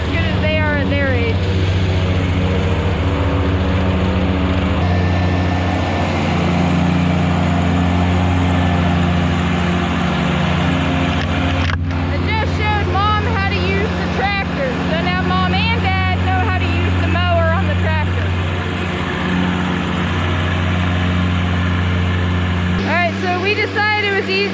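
A tractor engine runs steadily while mowing on a ranch, a loud, constant low drone that fills the whole stretch, with faint higher whining and rattling on top.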